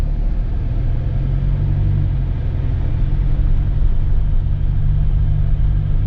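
A car climbing a narrow mountain road in Jedkod national park, Saraburi, its engine a loud steady low rumble heard from inside the vehicle, holding a constant drone throughout.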